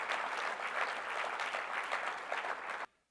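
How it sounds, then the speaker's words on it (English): An awards ceremony audience applauds the Teachers of the Year in a steady, fairly quiet wash of clapping that cuts off abruptly near the end. "I want to give one more round of applause for the Teachers of the Year"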